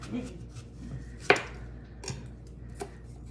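Knife chopping the tops off apples on a cutting board, one crisp sharp chop followed by a couple of softer cuts, close and fairly quiet in a kitchen.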